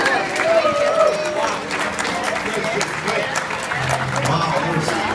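Wedding guests applauding the maids of honor, a spread of clapping and cheering from the crowd with chatter and voices mixed in, fairly loud and continuous.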